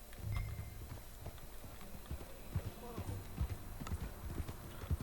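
Horse hooves clip-clop at a steady walking pace in Red Dead Redemption 2, close and distinct beats under voices talking throughout.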